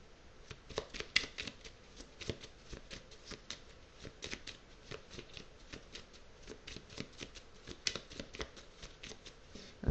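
Tarot cards being shuffled by hand, a steady run of quick riffling flicks and soft slaps, close and clear throughout with no talk.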